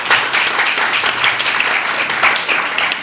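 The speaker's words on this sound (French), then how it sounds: "ça s'applaudit aussi très fort" A crowd at the installation ceremony of a new MUDEKO president applauds loudly and steadily, dense clapping filling the whole stretch without pause.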